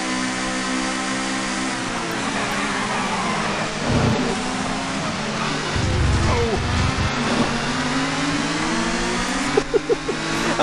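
Touring cars racing in TOCA 2, a steady engine drone with shifting pitch as cars run close together, a few low rumbling surges and a brief cluster of clicks near the end.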